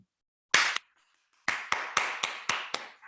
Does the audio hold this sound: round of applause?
yes